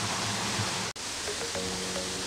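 The waterfall of barrio Tejería in Motozintla, Chiapas, sends up a soft, steady rush of falling water from a distance. There is a momentary break partway through, then the even hiss resumes.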